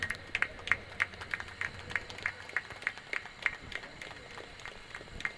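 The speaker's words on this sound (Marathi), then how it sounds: "चला गोविंदभाईसाठी एकदा टाळ्या होऊन जाऊन देत" Audience at a Mulund champions cricket trophy event applauding Govindbhai, a scattered, fairly sparse run of hand claps at a moderate distance, uneven in rhythm and holding steady throughout.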